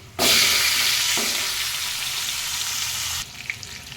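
Drumsticks (moringa pods) fry in a pan over medium heat, a loud sizzle bursting in sharply, with a stir-like bump partway through, then cutting off abruptly and leaving a quiet room tone, no talking.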